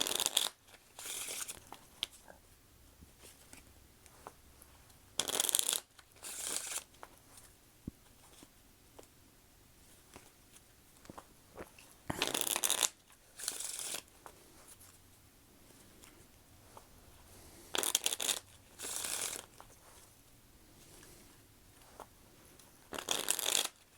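Tarot card deck being shuffled by hand in quiet bursts, several short riffling flurries separated by pauses with soft handling and tapping between them, close and fairly faint.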